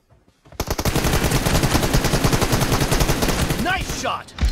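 Sustained rapid automatic fire from an M416 rifle in PUBG Mobile, a dense loud burst of rattling shots lasting several seconds, with a brief voice line near the end.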